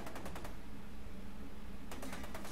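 Faint rapid bursts of automatic gunfire in FEAR 2, with a quick volley at the start and another near the end over a steady background hiss.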